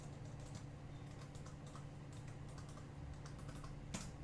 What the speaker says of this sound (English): I've got to type in my password.